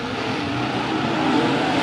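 A pack of 410 non-wing sprint cars roars at a green-flag start at Santa Maria, a dense, steady engine drone that holds loud and continuous throughout.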